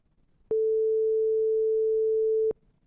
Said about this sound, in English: This is just a 440 hertz sine wave.